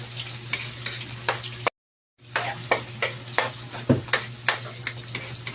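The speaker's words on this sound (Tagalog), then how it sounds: "Ang ulo sa sibuyas dahonan guys. Ilapil kami gisa." Onion leaves and onions sauté in a hot pan, a constant close sizzle broken by repeated stirring scrapes and clicks, with one brief gap of silence early on.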